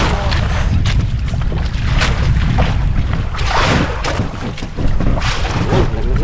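Steady wind roars across open water on a fishing boat, with broadband gusting and boat motion noises throughout, loud and close, with occasional thumps.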